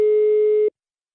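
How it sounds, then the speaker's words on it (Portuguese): A steady single-pitch telephone tone heard while a call is dialed, sounding continuously for about two-thirds of a second and then cutting off abruptly into silence. "Vou ligar pra Naísa"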